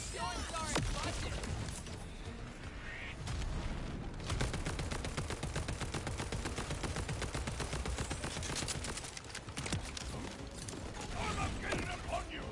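Rapid automatic gunfire from weapons in Borderlands 4, dense bursts of shots and clattering mechanisms running almost without pause over busy game sound, with a voice talking over parts of it.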